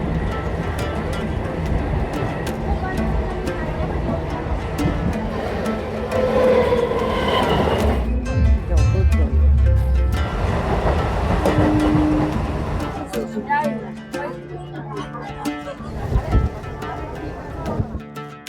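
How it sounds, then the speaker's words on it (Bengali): A suburban local train pulls out of Sealdah station in Kolkata bound for Chakdah, with a loud, steady rumble, rattling carriages, clatter and brief metallic wheel squeals, while voices talk at times. "একদম রাইট টাইমেই ট্রেন ছেড়ে দিল শিয়ালদহ স্টেশন থেকে।"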